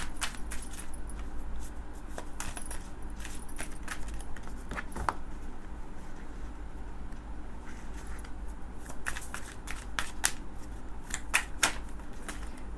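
Tarot cards being shuffled during a reading, a run of soft, crisp riffling and flicking sounds close by against a steady low hum, with no talking.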